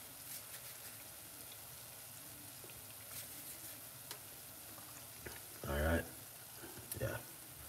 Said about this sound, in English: it's time to fry it properly now